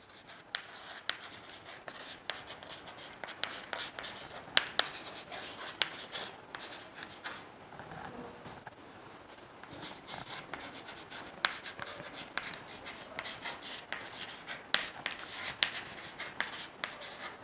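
Chalk taps and scrapes across a classroom board in a chemistry lesson, faint irregular strokes and clicks continuing with short pauses, no voices.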